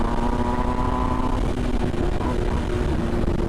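MV Agusta Brutale 1000RR motorcycle pulling hard in third gear on a demo ride, a loud, continuous engine roar with steady tone and heavy wind rush close to the rider.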